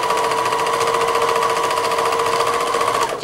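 A sewing machine running steadily and loudly as it stitches around the edges of a quilt top, a fast even whirring hum that stops abruptly just before the end.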